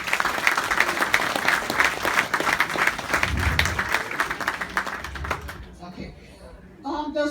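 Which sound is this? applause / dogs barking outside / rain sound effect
applause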